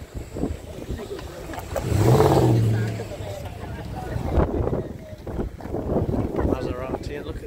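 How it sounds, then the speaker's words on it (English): An Audi V10 supercar at an outdoor cars-and-coffee meet gives one rising rev that swells and fades over a couple of seconds, with wind buffeting the microphone and voices nearby. "Audi V10."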